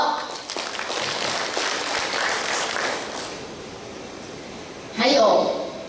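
A conference audience claps in a dense, steady wash of applause that gradually thins out, followed by a brief louder burst that sounds like a voice near the end.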